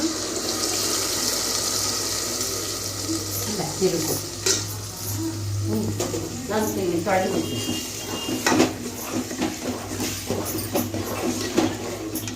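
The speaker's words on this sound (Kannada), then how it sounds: "ಸ್ವಲ್ಪ ನೀರು ಹಾಕ್ಕೊಂಡಿದ್ದೀನಿ." Water is poured into a cooking pot of mushroom sambar already holding ground masala paste and curry leaves, with a steady wash of liquid and stirring plus scattered clinks of metal utensils against the pot.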